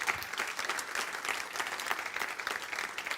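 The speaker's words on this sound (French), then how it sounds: "On va acclamer Seigneur ensemble" A church congregation clapping together, a dense steady burst of applause from a crowd indoors.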